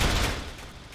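Rapid pistol gunfire from a Beretta 92 in the VR shooter H3VR, a loud close burst of overlapping shots that decays over about a second.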